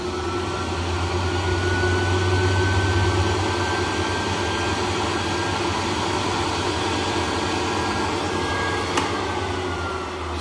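A homemade 220-volt free energy generator runs with a loud, steady broadband whir and hum, no change in level throughout, and a faint high whine above it.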